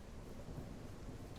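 Thunderstorm ambience in the farming game Ranch Simulator: a steady, dense wash of rain with a low rumbling undertone, continuous and fairly quiet, with no talking.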